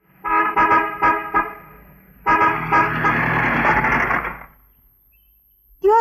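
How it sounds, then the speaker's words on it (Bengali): A car horn sounds in three short honks, then one long sustained blast, loud and close on a street, followed by silence and a brief final toot. "কি হলো, হর্ন বাজানো তো শুনতে পাচ্ছেন না?"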